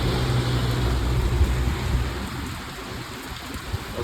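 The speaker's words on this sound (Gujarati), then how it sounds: "જોઈ લો વરસાદ ચાલુ થયો" Rain falling at night in a Gujarati village during a windy storm, a steady hiss of drops on surfaces, heavier at first and easing slightly, with no voices.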